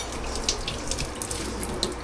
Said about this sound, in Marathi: मी थोडंसं हात धुतो.